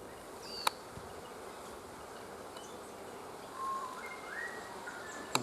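Faint insect buzzing from bees working the flowers of a paperbark tree outdoors, a thin airy hum over quiet ambience, with a few sharp clicks and a brief birdlike whistle.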